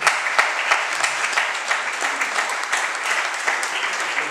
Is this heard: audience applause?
yes